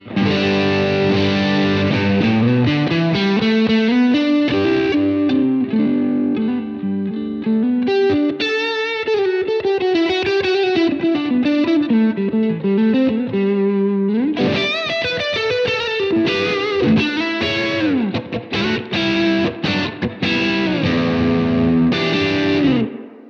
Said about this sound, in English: I'm going to put on all of my overdrives again